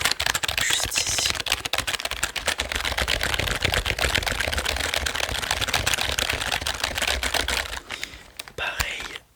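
Rapid, continuous typing on a wired Corsair computer keyboard, with dense close-up key clicks running steadily for about nine seconds and tapering off near the end.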